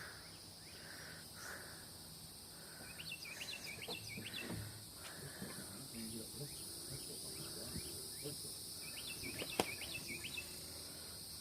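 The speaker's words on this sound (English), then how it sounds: "You hear that bird?" A mother bird calls in short, repeated chirping phrases at a middle distance over a constant background of insect trilling outdoors, fairly faint, with brief rustling and no talk.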